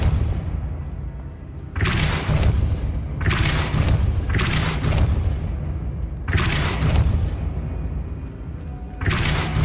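Repulso spells fired in Hogwarts Legacy produce heavy whooshing booms, four or five loud bursts at irregular intervals over a low game rumble.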